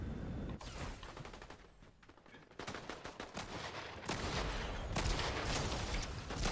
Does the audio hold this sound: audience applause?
no